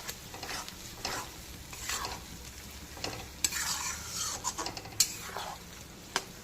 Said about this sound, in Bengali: এখন বেশ কিছুক্ষণ সময় নিয়ে এই পুরো মশলাটা আবারও কষিয়ে একদম ভাজা ভাজা করে নিতে হবে